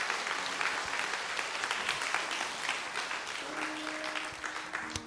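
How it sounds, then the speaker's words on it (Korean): Applause from a church festival audience fills the whole stretch, steady and dense, with a sustained tone entering near the end. "박수 부탁드립니다"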